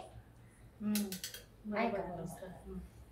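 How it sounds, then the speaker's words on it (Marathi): A lid set onto a metal pot of boiling Gujarati khichdi gives a brief close metallic clatter, followed by a softer rattle and the low bubbling of the pot. "तर आता मी याला झाकण लावते"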